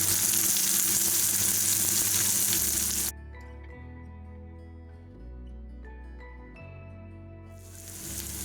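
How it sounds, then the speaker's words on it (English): Curry leaves are sautéed in a pan while making egg roast, giving a loud hissing sizzle at first that drops to a quieter crackle and then swells again at the end. "And now we'll saute it."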